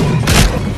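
A ship's cannon firing in Sea of Thieves during a sloop battle against rafts: a single loud, close boom that bursts out over a dense rumble of background noise.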